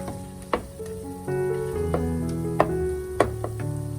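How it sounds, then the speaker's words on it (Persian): Chicken fries in a pan as black pepper and salt are stirred in for an aubergine stew, a steady sizzle broken by a few sharp scraping and tapping knocks from the utensil. "یکم فلفل سیاه، و نمک میزنیم و مخلوطش میکنیم و یه مقدار تفت میدیم."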